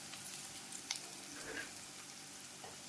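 Onions and green chillies fry in a pan with a steady, soft, close sizzle and a few faint stirring clicks, while no one speaks.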